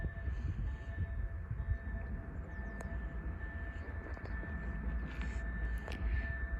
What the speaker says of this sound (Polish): Czekamy na wjazd tego oto pociągu.